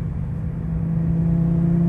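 A Porsche GT3 RS engine drones steadily from inside the car in Miami, a low, loud rumble that swells slightly as it builds over two seconds.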